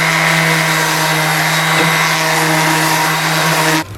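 Steady power sanding of soft Japanese lime (shina) wood furniture parts, a loud continuous whirring drone with a strong low hum that runs unbroken, then cuts off abruptly near the end.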